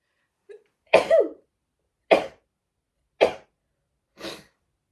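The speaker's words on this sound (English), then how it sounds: "Confirmation sneeze." A short sharp sneeze followed by three more brief bursts, spaced about a second apart, close and alone against silence.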